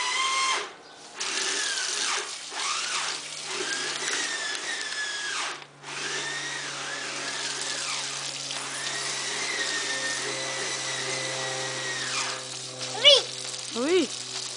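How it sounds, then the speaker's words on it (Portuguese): An electric drill whirs in sustained bursts, its motor pitch rising and falling with brief pauses, heard outdoors near running water while people talk nearby. "papai tá com a furadeira"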